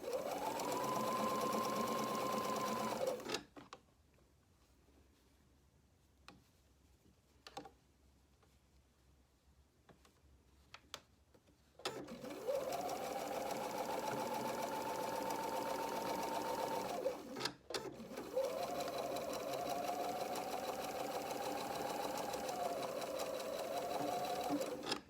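A sewing machine stitches the outseam of trousers with an elastic waistband, joining front to back in two long, loud whirring runs separated by a quiet pause with a few light clicks and taps.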